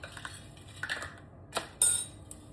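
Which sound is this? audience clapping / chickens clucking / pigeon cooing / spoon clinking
spoon clinking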